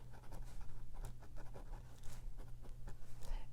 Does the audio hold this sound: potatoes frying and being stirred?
no